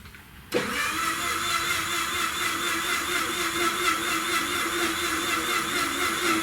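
A small motorized grinder starts abruptly and runs with a steady, loud, even whir while grinding Imperial Citrine Mica pigment for foundation, with no break in the drone.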